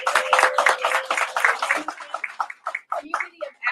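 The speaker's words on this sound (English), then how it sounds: "So if y'all could give them another round of applause" A live audience claps for a troupe of youth drummers, a dense patter of hands that thins into scattered, uneven claps toward the end, with some voices mixed in.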